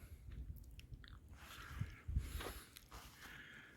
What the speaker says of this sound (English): Just munching on my second half of my breakfast now that I know it's downhill.